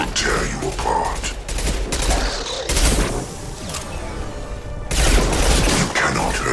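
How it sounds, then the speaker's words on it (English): Gunfire from Mass Effect 2 combat on Horizon colony, with dense overlapping shots and booms in a noisy battle mix, while voices talk over the fighting. "Firing a high impact shot."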